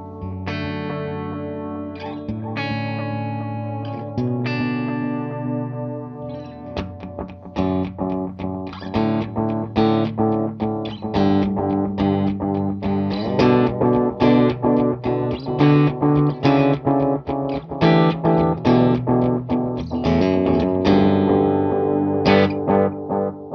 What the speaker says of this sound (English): So it is a super cool, great sounding analog voice delay.